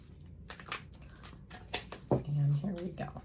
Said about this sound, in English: Let me just give this a few more shuffles.